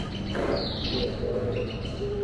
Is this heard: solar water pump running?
no